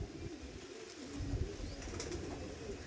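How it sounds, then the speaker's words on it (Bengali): A male and female pair of Fulshira pigeons coo softly and steadily against a hissy background, the low murmuring calls faint and continuous, with a brief rustle midway. "দেখুন এক জোড়া ফুলশিরা পায়রা দেখুন, ফুলশিরা দেখুন"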